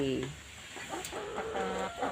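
Laying hens on an egg farm cluck and chatter, with several birds calling at once, some near and some farther off, in a busy continuous flock sound.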